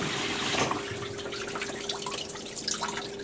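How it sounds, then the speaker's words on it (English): Water sprays and sloshes inside an opened GE Potscrubber 970 dishwasher mid wash cycle, a steady dense splashing with a faint constant hum beneath it, close and alone. "See how much water it fills up with. Yeah, it covers the whole bottom nicely."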